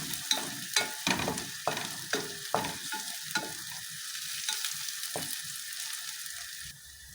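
Onions sizzling in a pan for chicken curry as they turn light brown, stirred with a series of sharp scraping strokes early on, then a softer, steady frying hiss.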